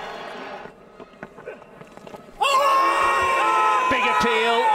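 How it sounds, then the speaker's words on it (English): Loud crowd roar erupting at a Test cricket match between Pakistan and England as a big appeal goes up on day five, sustained cheering and shouting swelling suddenly after quieter murmurs and a commentator's voice. "Just listen to the reaction in the crowd"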